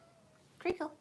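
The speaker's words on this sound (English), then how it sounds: "that is my cat. She wants to go out." A pet cat named Treacle gives two short, close meows in quick succession, wanting to be let outside, in a quiet room just after a person speaks.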